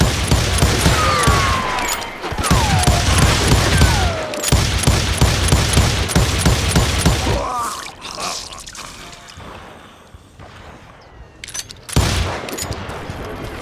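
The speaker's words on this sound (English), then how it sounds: "I heard the shots" Rapid gunfire in the Western shooter game Call of Juarez Gunslinger, loud close volleys of repeated shots in dense bursts, then a quieter stretch with scattered effects before another sharp burst near the end.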